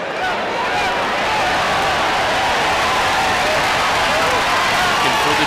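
Steady, dense roar of a large college wrestling arena crowd cheering and clapping during a Penn State vs. Michigan State 125-pound bout, continuous and loud throughout with no pause.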